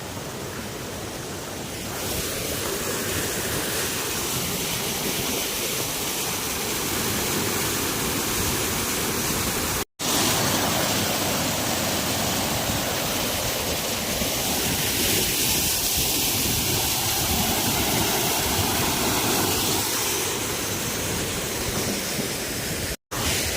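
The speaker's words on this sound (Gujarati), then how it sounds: "આ ધોધનો અવાજ છે" A waterfall pours down in a dense, continuous roar of falling water, loud and near, broken only by two brief cuts to silence.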